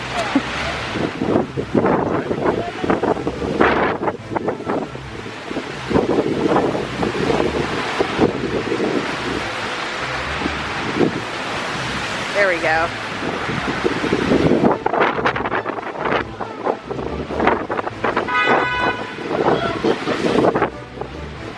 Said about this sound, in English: that's just the Mediterranean Sea lapping over the sidewalk